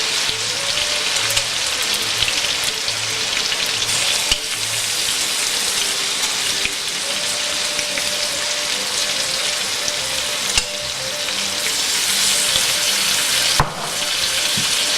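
Mushrooms frying with chicken steak in a pan, a loud, dense, continuous sizzle like heavy rain with occasional sharper crackles and a faint underlying hum.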